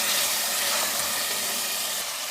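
Mutton with spices frying in a handi for kaddu gosht, giving a steady broadband sizzle and hiss that holds at an even, fairly loud level throughout, with no talk.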